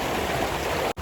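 Water rushing and gurgling around riders floating on inflatable rings along a lazy river on Tenerife, a steady close wash with no voices, cut by a brief dropout near the end.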